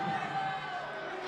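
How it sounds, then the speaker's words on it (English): Basketball crowd in a high school gym booing the referees after a charge call, a steady dense wash of many voices sustained throughout the moment. "The crowd not very happy with that call as they're booing the refs"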